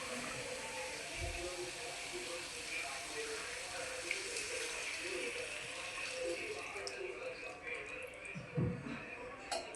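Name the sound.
water poured into a cooking curry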